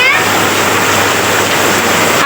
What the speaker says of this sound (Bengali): আরে অনেক জোরে বৃষ্টি নামছে